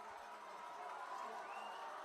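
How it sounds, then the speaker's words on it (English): A crowd in the stands at a high school football game jeers with a steady, continuous roar of booing and shouting, loud and dense throughout, with a few higher whoops rising out of the noise. "You can hear the boos from the crowd"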